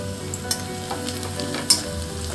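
Chopped garlic and green chilli frying with onions and potatoes in a pan for a river fish curry, a loud, steady sizzle with scraping stirs and two sharp utensil clinks, no talking.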